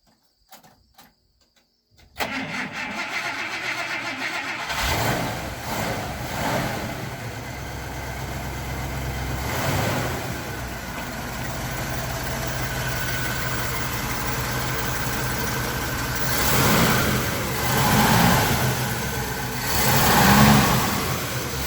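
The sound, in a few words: V8 car engine starting and running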